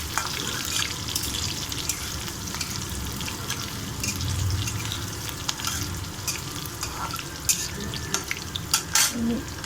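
Onions sizzling in a pan with chillies for sabudana khichdi: steady loud frying hiss with scraping stirring and clatter of a utensil toward the end, no talk.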